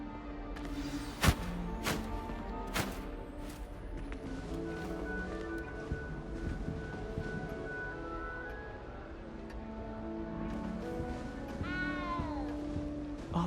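A frightened little cat meows repeatedly in the video game Hogwarts Legacy, clear plaintive cries over a soft ambient game soundscape with a chime-like sweep near the end.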